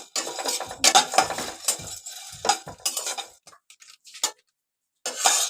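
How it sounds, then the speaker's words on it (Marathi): Tirphal spice dry-roasted in a pan for Malvani masala, heard as close, crisp rattling and clinking of the seeds and a utensil against metal in bursts, with a brief silent gap before a final clatter. "हे बघा तिरपळ भाजून घेते"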